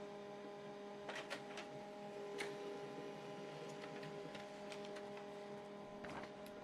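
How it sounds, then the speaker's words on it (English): An HP LaserJet M140we laser printer runs a test page, giving a steady mechanical hum with scattered clicks and feed noises at moderate distance and no speech. "Print test page."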